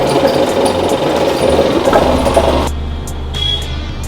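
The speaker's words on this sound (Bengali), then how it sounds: "এই যে মেশিনটা দেখলে এটা হচ্ছে মশলা তৈরি হওয়ার মেশিন এই মেশিনটা চলছে" A spice-grinding machine runs steadily in a restaurant kitchen, a loud, close, continuous mechanical whir with rattling texture that drops to a lower, smoother hum partway through.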